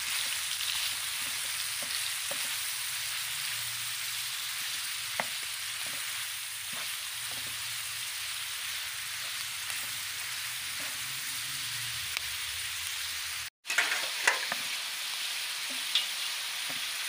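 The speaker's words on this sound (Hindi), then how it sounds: "मिक्स करते हैं।" Chicken liver frying with masala in a pan, a steady close sizzle with scattered pops and light scrapes of stirring, briefly cut off near the end before resuming.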